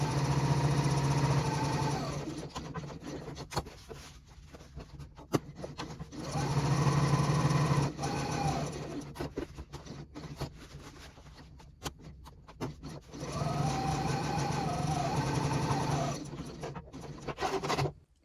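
A sewing machine top stitches the exterior pieces of a crossbody bag at a long stitch length, running in three long bursts separated by brief pauses as the work is pivoted, with a close, steady motor hum.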